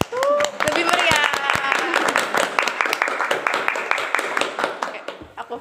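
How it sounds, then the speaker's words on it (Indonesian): Podcast audience at SMAN 18 breaks into a burst of applause, sharp individual claps scattered across several seconds from a modest crowd, with a voice cheering over the first part before the clapping fades out. "sekali lagi gak sih tepuk tangannya? Lebih meriah."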